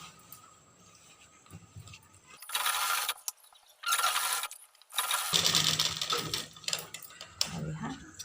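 Sewing machine stitching a strip onto a four-panel petticoat, bursts of rapid mechanical whirring separated by short pauses, close and fairly quiet.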